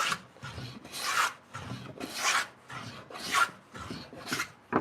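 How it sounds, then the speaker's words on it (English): Hand planer working across a big pine block where the grain direction changes, giving a series of rhythmic rasping strokes about one per second, each stroke a loud scraping rush with some chunky tearing, close up and with no talk. "the grain direction changing is really throwing off the hand planer, kind of chunking out some wood"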